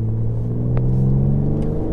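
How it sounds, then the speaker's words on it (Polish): A 2021 BMW M4 Competition, noted for heavy turbo lag, holds a deep, loud, steady engine drone heard from close by, with a sustained low rumble and little change in pitch. "3000 obrotów i spróbujmy zbutować go."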